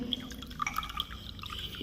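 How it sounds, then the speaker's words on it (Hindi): Water is poured and dripped into glue in a bowl while slime is being made, giving light splashes and scattered bright drips at close range, with no talk over them. "देख सकते हैं मैं इतना पानी ले रहा हूँ"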